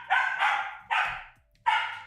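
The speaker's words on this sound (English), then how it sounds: "As soon as we go live, they start barking." Dogs bark close by in three loud, sharp yapping bursts, the first a quick double bark, separated by short pauses.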